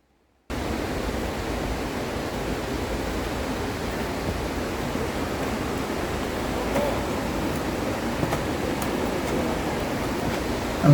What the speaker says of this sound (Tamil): அந்த தண்ணி ஓடுற சவுண்டு எப்படி கேட்குது பாருங்கள்